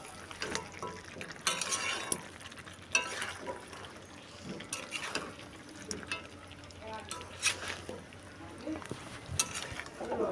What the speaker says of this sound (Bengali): লঙ্কা গুঁড়ো জিরে গুঁড়ো আর ধনে গুঁড়ো এবার সুন্দর করে নাড়াবো